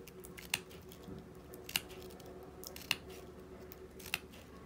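Regular scissors snipping crepe paper into a fringe, four crisp evenly spaced cuts about a second apart, close but faint over a quiet room.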